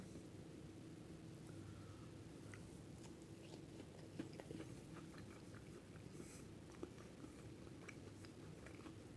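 A bite into pan-fried chicken with a crisp, ghee-fried coating gives a few faint, close crunches and chewing sounds against a quiet, steady background hiss.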